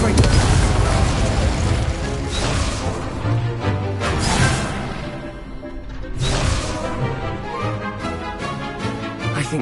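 Loud fiery spell blasts with booming bursts and whooshes in the Hogwarts Legacy video game, a dense roaring stretch with several swelling surges over roughly ten seconds, layered with game music and effects.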